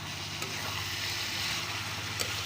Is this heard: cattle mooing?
no